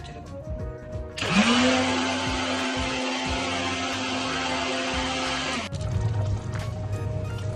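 A mixer grinder blends butter chicken ingredients, starting abruptly and whirring loudly and continuously for about four seconds before cutting off, surrounded by quieter kitchen noise.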